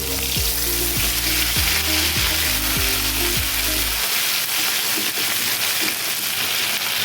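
Green chili paste dropped into hot oil with black cumin seeds crackles and sizzles loudly, with a rhythmic low scraping or stirring thud for the first four seconds before the frying settles into a steady hiss.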